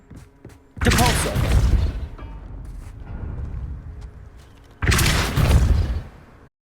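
Two loud spell-casting bursts from the Hogwarts Legacy game on Xbox Series X: a sharp forceful whoosh-boom, a quieter stretch of rumbling effects, then a second blast of similar strength, each close and punchy.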